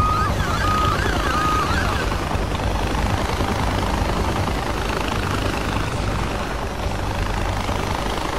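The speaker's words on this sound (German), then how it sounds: "jetzt kommt da auch noch ein Helikopter" An enemy helicopter in Far Cry 4 drones loudly and steadily throughout, its rotor thrum and engine whine close and constant, with faint combat noise beneath.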